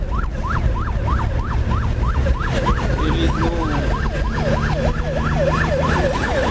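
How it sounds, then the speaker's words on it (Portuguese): A wailing emergency siren rises and falls rapidly and continuously in São Paulo, loud and fairly close, with traffic rumble beneath and a brief voice speaking. "Vocês estão ouvindo a sirene ali, ó, é atendimento de emergência."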